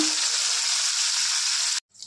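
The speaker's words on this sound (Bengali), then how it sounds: "আমি একটা কড়াইয়ের মধ্যে সাদা তেলে ভেজে নেব।" Young jackfruit pieces fry in white oil in a wok, a close, steady bright sizzle that cuts off abruptly, followed by a faint brief hiss.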